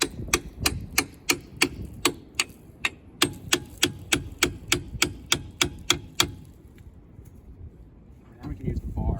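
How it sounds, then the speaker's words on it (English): A hammer pounding a screwdriver to drive out a strut on a Chevy Tracker being readied for racing, with about twenty sharp metallic strikes in a steady rapid rhythm that then stop, under a low background hum. "let's pound the screwdriver in here"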